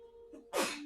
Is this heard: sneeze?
yes